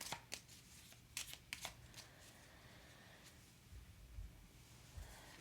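Cards being shuffled up close, a few quick riffling bursts at the start, then quieter soft handling of the deck.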